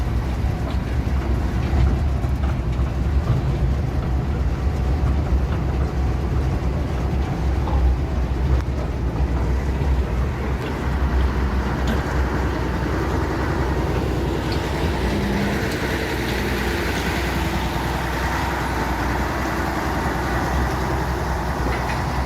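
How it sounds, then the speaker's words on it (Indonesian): A steady, loud diesel engine drone fills the enclosed cab of a D5 diesel locomotive on the Jatiroto sugar mill railway, with continuous rumble and rattling mechanical noise and no voices. "ini suasana dalam kabin masinis lokomotif D5."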